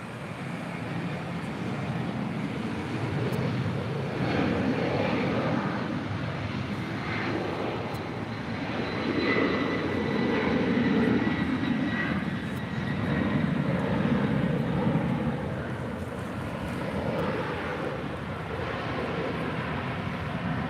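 A heavy jet departs at LAX with a sustained, broad engine roar that swells and fades gradually over twenty seconds, heard from some distance with no voices.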